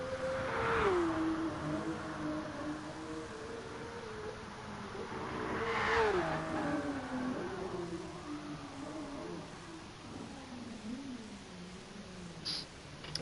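A car engine in GT Sport revs and wails through a drift on the Nordschleife, pitch rising and falling with throttle, fairly faint and steady with no talking.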